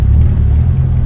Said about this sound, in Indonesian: juga ada kendaraan yang melintas